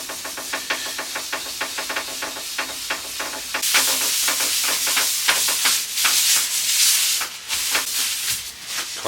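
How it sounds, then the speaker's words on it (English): Rag rubbing a small wooden table clean with white spirit, a close rhythmic rasping swish that turns louder and more continuous partway through. "I'm going to give it a bit of a clean with some white spirit or mineral spirit"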